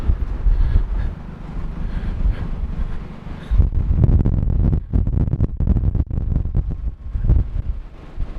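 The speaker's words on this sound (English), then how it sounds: "Wow, it's windy." Strong wind gusting outdoors at a scrap-metal trash pick, a steady low roar buffeting the microphone with rising and falling bursts throughout.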